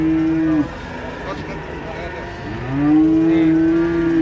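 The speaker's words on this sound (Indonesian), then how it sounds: "Sapi raksasa keluar. Kedatangan sapi raksasa guys ini guys." A giant cow moos twice nearby while unloading from a truck, a short low call ending early and then a long, drawn-out bellow, with faint background noise between.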